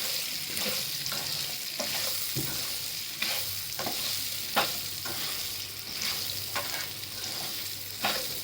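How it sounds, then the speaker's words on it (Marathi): Raw mango pieces are stir-fried in a pan for lunji chutney, a steady close sizzle broken by repeated scraping and tossing strokes of a spatula, with no talking. "इथे चांगले असं परतून घ्यायचं आपण"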